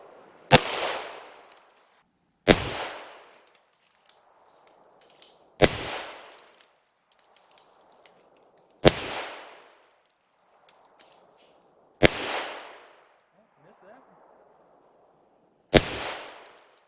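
158 grain soft lead rounds striking a steel plate produce six sharp metallic clangs spaced a few seconds apart, each ringing briefly, with faint gunshot reports heard between them.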